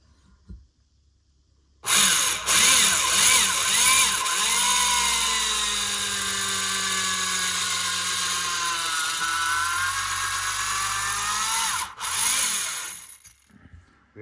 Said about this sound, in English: We had to use a corded drill because it has more horsepower.